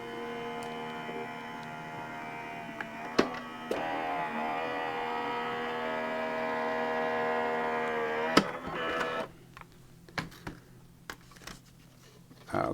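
A small craft machine hums steadily as a watercolor-stamped card feeds through, a continuous droning tone with a few sharp clicks, then the hum cuts off into scattered handling taps.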